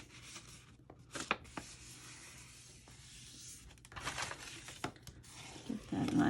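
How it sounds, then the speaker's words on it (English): Thin scored cardstock is folded and creased along its score lines, giving quiet crinkling, rubbing and sharp pressing sounds in irregular bursts close by, with no talk. "I'm going to go ahead and I'm going to fold on my score lines, making sure that my score lines are nice and crispy"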